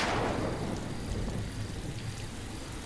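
Steady, heavy rain pours down in a continuous wash of noise, with no voices.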